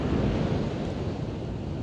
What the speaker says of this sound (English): It's really hard with the ocean breeze. It's been a very windy day.